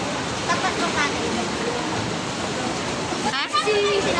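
Deep flood water spreading wide like a sea through a residential area, a steady rushing wash heard under nearby voices, with a brief splash or rustle near the end.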